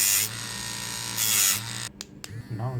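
A homemade mini sanding tool built from a broken trimmer whirs with a steady high motor buzz, surging in two bursts before cutting out and restarting in short, uneven spurts.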